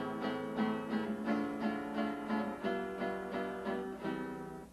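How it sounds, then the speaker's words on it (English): A guitar is strummed in a bolero rhythm, with evenly spaced chord strokes about every half second, ringing clearly and alone with no talk. "The next one is a bolero, and it sounds like this."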